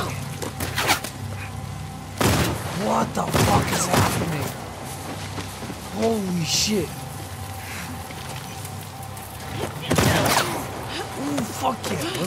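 Several sharp gunshot bursts crack out at intervals amid constant game ambience in The Last of Us Part II, loud and close, with a player talking and reacting between the shots.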